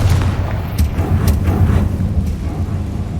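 A Confringo fire spell blast from Hogwarts Legacy lands as a loud, sustained rumbling boom with deep low-end roar and crackling debris throughout.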